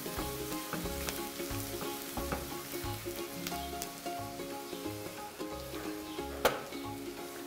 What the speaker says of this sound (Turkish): bir adet domatesimi ilave ediyorum ve domatesin sos kıvamına gelmesini bekleyecek ölçüde kavurmaya devam ediyorum